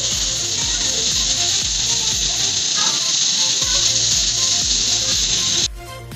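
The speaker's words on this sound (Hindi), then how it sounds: "इसीलिए मैंने कुकर को चॉइस किया है कि हम इसे कुकर में चढ़ाएंगे।" A pressure cooker of meat and beetroot cooking with ginger and spices gives off a loud, steady steam hiss with rattling clicks underneath, then cuts off abruptly near the end.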